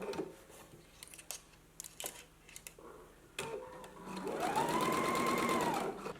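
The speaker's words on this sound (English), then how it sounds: "then you're going to stitch it at a 5/8 of an inch seam allowance" Sewing machine stitching a 5/8 inch seam on a McCall's M8324 garment, starting after a few handling clicks and then running in a steady, close whirring hum to the end.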